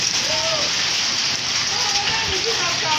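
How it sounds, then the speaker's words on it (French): Hailstones pelting down in Kinshasa, a dense, steady broadband clatter and hiss of ice striking surfaces that holds at a constant loud level throughout, with faint voices murmuring underneath. "Le bruit là c'est les grelons"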